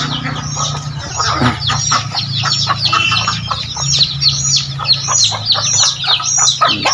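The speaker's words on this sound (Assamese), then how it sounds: "মৰম লগা পোৱালি এইবিলাক 3-4 দিনমান হৈছে" Chicks three to four days old chirping busily while being fed, with dense, high, rapid peeps close by and continuous throughout, with no clear talking over them.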